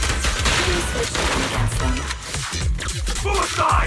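Bursts of gunfire in the video game Zenless Zone Zero, rapid crackling volleys mixed with impacts and combat effects at close range, with a shouted voice breaking in partway through.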